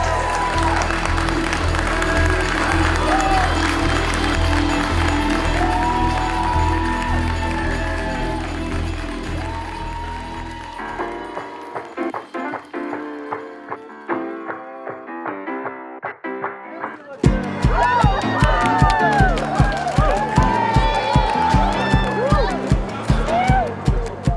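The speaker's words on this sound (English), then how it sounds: "They're all clapping, all sorts of smiles" Audience applause and cheering at a Nasdaq opening bell ceremony for cryptocurrency miner Argo Blockchain's listing: a stretch of loud, dense clapping sits between passages of music, with steady crowd noise throughout.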